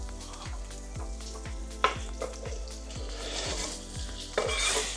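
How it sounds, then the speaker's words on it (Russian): Onions frying in melted lard in a pan give a steady sizzle under repeated stirring scrapes and occasional clinks of a utensil against the pan, close and alone with no talk. "Пока это у нас жарится, я почищу картошку."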